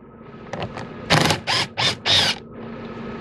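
A ratchet wrench loosening a 10 mm bolt on the door of a Nissan Sentra during a latch replacement: a few faint ticks, then four loud, close bursts of ratcheting clicks in quick succession, with no talk.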